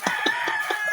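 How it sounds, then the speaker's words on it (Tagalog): Domestic chickens kept at home, with a rooster among them, make quick, evenly spaced clucking calls, about five short bursts in one second, close and fairly loud. "Sa mga video ko, may mga manok kasi ang dami namin manok dito."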